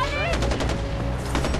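Rapid bursts of gunfire in the video game Far Cry 4, quick repeated shots over a game soundscape, with a voice faintly present.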